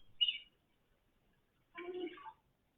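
A dugong makes two short, high chirping calls separated by a pause, the second a warbling squeak, faint and alone in quiet surroundings.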